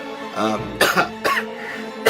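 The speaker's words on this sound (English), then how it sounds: "apologize for all of the coughing and everything" Several harsh coughs burst out close by, one after another, with throaty rasping between them.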